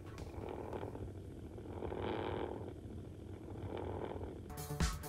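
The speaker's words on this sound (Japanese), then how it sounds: "しかも喉をゴロゴロ鳴らす音まで再現しています。" A robotic toy cat makes a faint, mechanical purring, a soft low rumble pulsing in slow breathing-like swells, with a brief louder rustle near the end.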